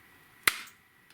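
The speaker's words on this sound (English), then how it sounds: "Magic clap." A single sharp hand clap, close and crisp, with a short ringing decay in a quiet room and a faint tap just after.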